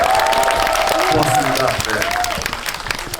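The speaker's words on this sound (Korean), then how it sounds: "제가 박수 받으려고 한 건 아니지만 너무 고맙고요." At a film talk event for the movie Hunt, featuring an actor, a crowd applauds with a dense wash of clapping that fades over a few seconds while someone speaks over it.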